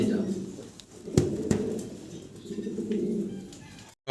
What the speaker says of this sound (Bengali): দর্শক ভিডিও স্ক্রিনে আমরা এক পেয়ার লাহোরি কবুতর দেখতে পারতেছি